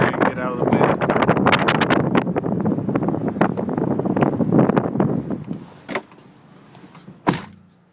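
Strong wind buffets the microphone outdoors in an open retail area, a loud steady rumbling roar that eases off near the end and is broken by a couple of sharp thumps.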